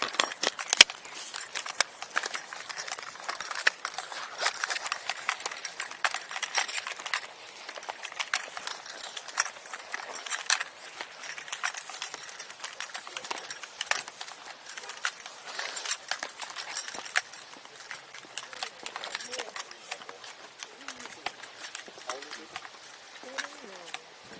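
Acura and Buick car keys jangling in a continuous stream of light metallic clinks and rattles, faint and close, while people talk nearby.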